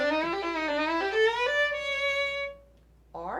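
Solo violin from Bacewicz's Sonata No. 2 plays short three-note interval figures joined by connecting notes, bright and close with clear harmonics, a held note after a quick run, then a brief pause before another phrase begins.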